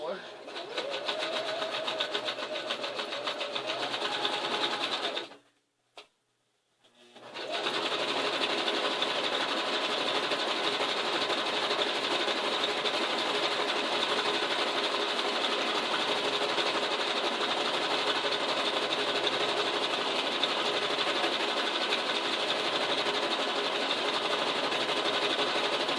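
A sewing machine runs a zigzag stitch down the side of a quilt-as-you-go block, a steady loud mechanical whir that stops briefly for a couple of seconds, then resumes and continues unbroken, with a voice audible early on.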